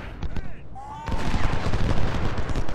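Cannon fire and rifle volleys crack and rumble in the Civil War strategy game Ultimate General, a dense spread of gunshots and booms overlapping throughout, with a voice speaking over part of it.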